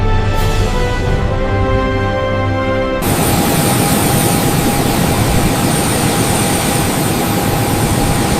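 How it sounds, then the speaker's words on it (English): Air Force One, the US presidential Boeing jet, fills the scene with a loud, continuous engine roar that surges in abruptly after a few seconds of tonal music and holds steady. "Air Force One is not just a plane."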